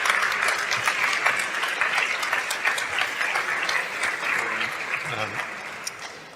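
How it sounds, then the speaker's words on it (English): Sustained audience applause at the TransVision longevity summit in Madrid greeting scientist Steve Horvath, a full room clapping steadily and fading slightly toward the end, with a voice faintly present beneath it. "Please, a round welcome of applause for Steve Horvath."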